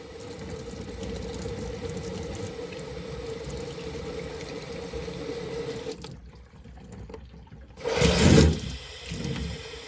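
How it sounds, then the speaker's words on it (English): Steady running water flows from a tap for several seconds, pauses briefly, then a louder splashing burst as a Mainstays 9-inch high velocity fan blade is rinsed under the stream. "I'm making sure I'm very thorough about rinsing the blade"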